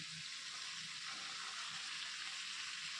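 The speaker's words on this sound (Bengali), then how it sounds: "মটরশুঁটি দিয়েও আমি আর একটু ভেজে নেব সবজিটা" Vegetables and green peas frying in a pan for veg biryani make a steady, close sizzling hiss that runs unbroken throughout, with faint low clatters of stirring underneath and no talking.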